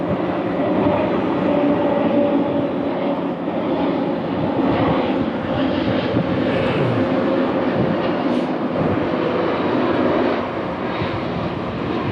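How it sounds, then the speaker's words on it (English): An airplane flying overhead gives a steady, loud, broad engine roar that holds constant throughout, with no speech. "You can probably hear that airplane ahead over any kind of a bike noise"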